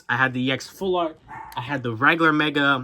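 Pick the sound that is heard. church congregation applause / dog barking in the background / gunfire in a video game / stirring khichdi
dog barking in the background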